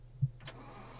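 A car engine cranks and catches in the survival game Scum, a brief faint starter whine followed by a low, steady idle rumble, heard quietly and alone.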